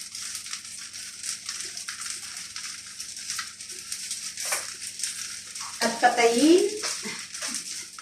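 Chicken fried rice with spring onion being stir-fried in a pan gives a steady, moderate sizzle, with scraping of a utensil that grows busier toward the end.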